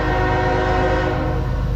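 A CSX M403 manifest freight train moving slowly through Piscataway, New Jersey, with locomotive 3201 leading: a loud, sustained horn blast over a steady, close rail rumble.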